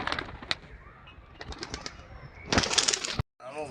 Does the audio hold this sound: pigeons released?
yes